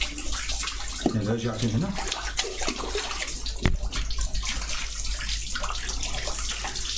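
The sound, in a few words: water being poured while washing a body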